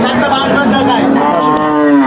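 A Holstein Friesian cow at a cattle market lets out a loud, long moo close by, sustained with a rising and falling pitch for about two seconds.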